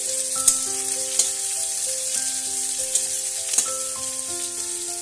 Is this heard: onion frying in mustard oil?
yes